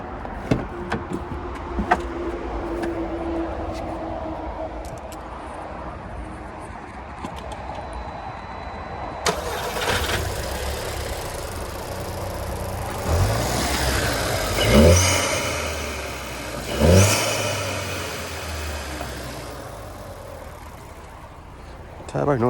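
A 2.0 TFSI EA113 engine in a Mk2 Audi TT, under repair, starts with a sudden burst and then revs in several rising, falling swells, heard close up with speech around it.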